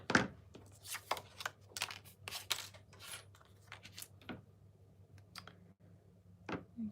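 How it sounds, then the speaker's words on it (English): Paper being cut smaller by hand at a crafting desk, a run of close, crisp snipping and rustling strokes, busy at first and then sparser with pauses. "I am just going to cut my paper a bit smaller"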